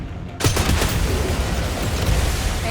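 Gunfire at pipes in the video game 007 First Light, during a hangar infiltration: after a brief quiet moment a loud, sustained volley of shots erupts and continues steadily, dense and close, with no voices over it.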